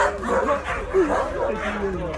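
Several dogs bark and yip close by in a rapid, overlapping flurry, with a person's voice mixed in.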